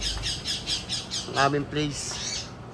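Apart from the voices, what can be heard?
Indian ringneck parakeet squawking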